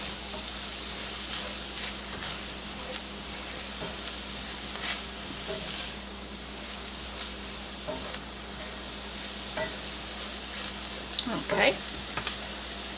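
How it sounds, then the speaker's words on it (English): Garlic sizzles softly in a pan during hamburger-helper prep, a steady low frying hiss with a few light stirring clicks near the end. "We're going to let this cook for about 30 seconds. To about a minute, just to get that garlic nice and fragrant."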